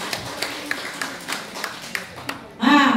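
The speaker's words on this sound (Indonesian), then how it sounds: "Tepuk tangan untuk ibu Kartini RW 23" Scattered, rhythmic clapping from an audience at a neighbourhood community performance, light individual claps in a regular beat before a voice speaks loudly at the end.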